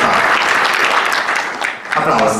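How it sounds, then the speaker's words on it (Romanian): Audience applause for a young pianist, Ana, at a recital: loud, dense clapping close by that dips briefly near the end before swelling again. "Aplauze pentru Ana."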